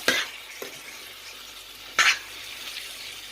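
Tomato curry in a pan is stirred with a spoon, two brief scraping strokes over a soft simmer and sizzle, close and fairly quiet.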